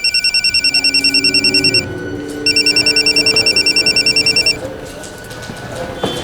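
A telephone rings in two electronic trilling bursts with a short gap between them, heard up close as a call is placed; faint room sound and low voices sit beneath it.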